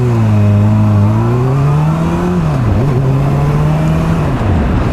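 A Honda CBR600F motorcycle accelerates on the road, its engine note climbing steadily, dipping at a gear change and rising again, loud and close with constant wind rush.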